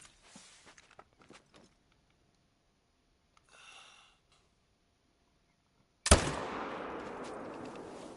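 A hunting rifle fires at an elk in theHunter: Call of the Wild: a single sharp, loud shot with a long echoing tail, following several seconds of faint rustling movement and near silence.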